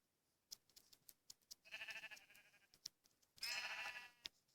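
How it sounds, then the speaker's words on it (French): In the Minecraft video game, a sheep gives a few bleats, two longer wavering calls in among sharp clicking taps, fairly clear against a quiet background. "Il y a un mouton là, faut le tuer, faut en profiter."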